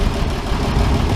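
A Farmall 806 tractor engine rumbles steadily at close range, a dense low idle with no voices over it.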